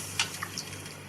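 Water poured into a cooking pot for rice in a home kitchen, brief splashing with a few light drips, close and fairly quiet, no talking.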